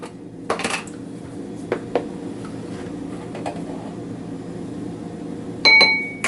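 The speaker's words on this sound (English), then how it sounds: "Trying to not send any of my measuring spoons flying" Metal measuring spoons clink and tap on a kitchen counter while bacon candy is prepared, with a few sharp isolated clicks and a louder rattling clatter near the end.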